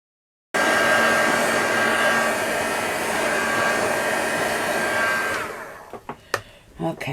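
A hair dryer drying vintage rosette craft trim blows loud and steady for about five seconds, then cuts off, leaving a few light handling knocks.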